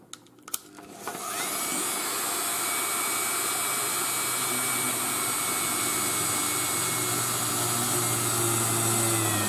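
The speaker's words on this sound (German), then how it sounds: "dann bohren wir ein Loch in dieses Teil hier und zwar relativ nah hier am Rand" A rotary tool spins up after a few clicks and whines at a steady high pitch for several seconds while drilling a hole near the edge of a plastic part, close and continuous, with no talking.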